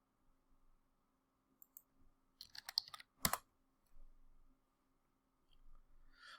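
Soft keystrokes on a computer keyboard while entering a shell command, a few sparse clicks followed by a quick cluster of taps, faint and close in an otherwise quiet room.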